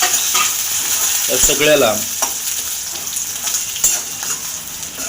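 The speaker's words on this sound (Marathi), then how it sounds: "त्यानंतर कढीपत्ता टाकावा. हे सगळं मिश्रण परतून घ्यावं." Onion and curry leaves stir-fry in a pan for poha, giving a steady close sizzle with scraping stirs and clinks from a utensil.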